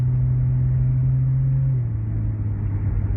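A 1998 Jeep XJ with a throttle position sensor fault and fluctuating idle runs on a test drive. Its engine gives a steady, close, low droning hum that dips slightly in pitch partway through, with no voices.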